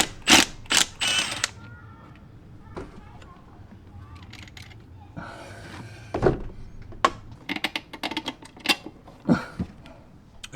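A ratchet and wrench remove two 14 mm bolts on a 2022+ Subaru WRX, with bursts of close, sharp clicking and metallic clunks broken by short pauses.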